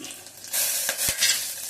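Oil sizzles and crackles steadily as spices fry in a pan for coconut milk rice, with a brief scrape of stirring midway; no talking.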